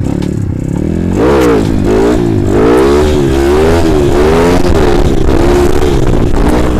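A Kawasaki KLX supermoto with a modified engine revs loudly and up close, its pitch rising and falling in repeated throttle blips over steady idle clatter, with no talking.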